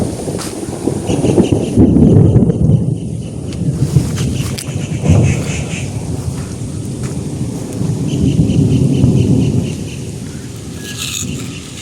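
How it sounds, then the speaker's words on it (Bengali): Thunder rolls in a gathering storm with wind and rain, deep loud rumbles swelling and fading in long waves, with crackling gusts and rain noise between them and no talk. "প্রচুর পরিমাণে মেঘ ডাকছে।"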